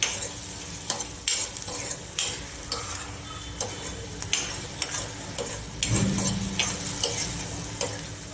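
A spoon stirs garam masala and Kitchen King masala in a hot pan for a Kathiyawadi veg Kolhapuri, with steady scraping strokes and light ticks over a continuous sizzle, close and without talk.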